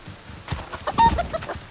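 Chicken clucking in a survival video game, a few short brief clucks and soft game sounds over a quiet background, with a clearer tonal note near the middle.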